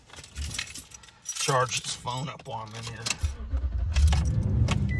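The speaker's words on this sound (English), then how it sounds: "Here, I'm going to turn my car on" Car keys jangle close by, then the car's engine catches around the midpoint and settles into a steady low rumble, with someone talking over it throughout.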